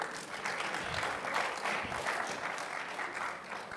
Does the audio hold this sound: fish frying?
no